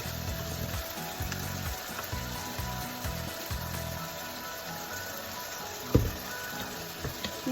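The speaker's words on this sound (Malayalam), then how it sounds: "നന്നായിട്ട് വഴണ്ട് വരട്ടെ." Tomato and onion sauté together in a pan for a tomato chutney, giving a low steady sizzle with soft stirring scrapes and one sharp knock near the end, close and fairly quiet.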